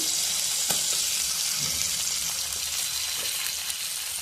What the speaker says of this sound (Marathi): मिरची आता आपली चांगली भाजायला लागलेली आहे आणि लसूण पण भाजते चांगला त्याच्यामध्ये